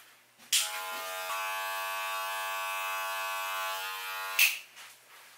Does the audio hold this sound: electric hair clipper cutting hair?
yes